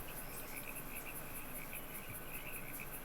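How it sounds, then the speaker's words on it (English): Marsh ambience in the video game Minecraft: a steady chorus of shrill, pulsing chirps and trills, frog-like croaking over a soft continuous background hiss, even and unbroken throughout with no talking. "I like the frog sounds"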